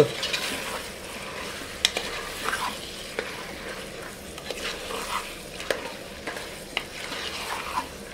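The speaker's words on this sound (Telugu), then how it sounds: "ఇదిగోండి తలకాయ మాసం కూడా వేసేసుకున్నాం. ఓకేరా. ఈ మసాలా కలుపు." Goat head meat frying with masala in a pan, stirred steadily, with a soft continuous sizzle and repeated scraping clicks of the spoon. The sound is close up and there is no talk.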